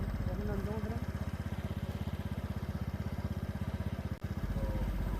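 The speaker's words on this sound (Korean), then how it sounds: "오토바이를 정차시키네요." A motorcycle on a rural road idles steadily after pulling over, a close, rapid, even chugging pulse throughout, with a brief dropout near the end and faint talk in the background.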